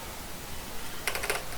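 Quick burst of a few keystrokes on a computer keyboard, faint and close, after a quiet pause with no talk.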